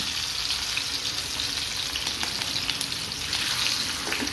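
A whole masala-coated ayila fish fries in hot coconut oil with curry leaves, producing a loud, continuous crackling sizzle that holds steady with no voices over it.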